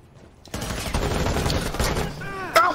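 Rapid video game gunfire rattles in bursts, fairly loud and close, with a sharp ricochet-like whine near the end and overlapping chatter.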